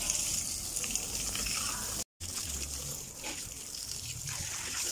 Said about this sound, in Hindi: तो मैं ये डेली पानी लगाता हूँ टायरों को।